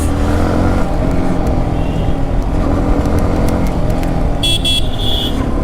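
Motorcycle riding through dense traffic, the engine a steady, loud near drone over constant road noise, with a brief higher whine toward the end.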